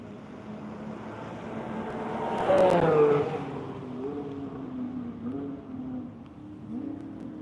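Race cars drone past at a distance on a track, engine pitch rising and falling as one swells louder mid-way, then fades back to a steady hum.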